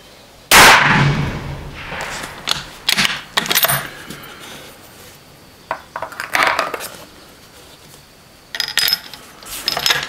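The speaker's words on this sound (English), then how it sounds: "Let's see where this bullet goes." An FTR .308 rifle fires one sharp, loud shot near the start, followed by scattered metallic clinks and clatter of handling at the bench, with no speech.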